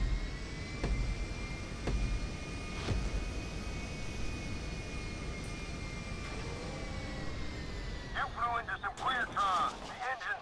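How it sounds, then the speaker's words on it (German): A steady airplane engine drone in GTA 5 Online, droning continuously with faint whistling tones, while a voice speaks over it and a brief chirping clutter rises near the end. "Okay, wir müssen das Flugzeug da landen."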